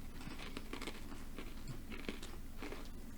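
Crunchy cookies being chewed: soft, steady crunching and biting with small crackles, faint and close, going on throughout with no talking.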